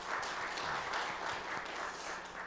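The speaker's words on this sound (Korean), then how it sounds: "하나님께 영광 돌리면서 박수 한번 합시다." Congregation clapping together in a church service, a soft, even patter of many hands heard at a distance for a couple of seconds.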